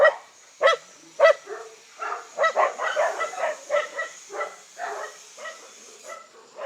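Dogs barking nearby in a series of sharp yaps and yips, some in quick clusters, with a faint high whine in the background.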